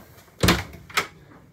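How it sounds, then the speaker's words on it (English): A port-side cabin door aboard a Kim Holman Landfall Class ketch opens with two distinct knocks about half a second apart, the first louder and fuller, heard close up in a quiet cabin. "If we move over to this port side door,"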